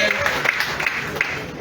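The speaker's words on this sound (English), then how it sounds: "An applause from the crowd." A crowd at a colorful 86th birthday ceremony for former president Ellen Johnson Sirleaf gives brief applause, scattered clapping mixed with crowd noise and voices.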